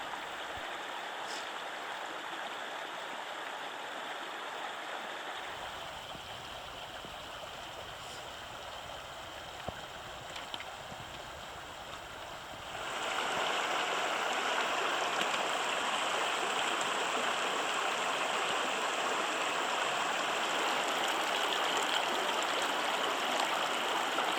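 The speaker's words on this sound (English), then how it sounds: "we could hear the lower Whitehorse Falls in the distance" Lower Whitehorse Falls and its creek in Whitehorse Wildlands Park give a steady, broad rush of flowing water, fairly distant at first and growing louder and fuller about halfway through, continuing unbroken with no voices.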